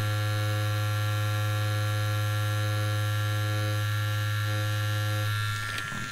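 Tattoo machine running with a 9 magnum needle, a steady close electric buzz with a constant hum that holds level and trails off slightly at the end.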